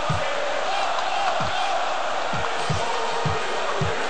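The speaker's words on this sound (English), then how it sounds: "Crowd really cheering them on." A crowd roars in Sensible World of Soccer, a dense continuous stadium cheer under a commentator's voice, with several low thumps spaced through it.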